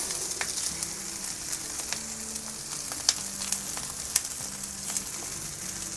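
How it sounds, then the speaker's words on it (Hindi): Eggless shami kababs of spiced lentil mixture fry in a pan of oil, giving a steady, close sizzle with scattered pops and crackles and no talking. "बगैर अंडे के जो कबाब हम फ्राई करते हैं"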